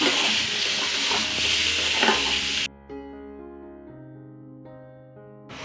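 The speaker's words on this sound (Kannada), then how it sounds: "ಇದೇ ಬಾಣಲಿಯಲ್ಲಿ ಹಾಗೇನೆ ಒಗ್ಗರಣೆಗೆ ಹಾಕ್ಬಿಡ್ತೀನಿ" A tempering of spices crackles loudly in a frying pan for a snake gourd palya, a dense close sizzle with stirring for a few seconds before it cuts off abruptly and gentle instrumental music takes over.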